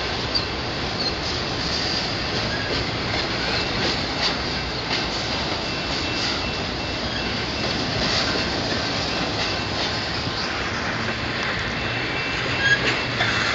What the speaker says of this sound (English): both of them locomotives are BNSF